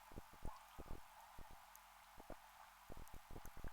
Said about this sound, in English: I'm just drink a bit of water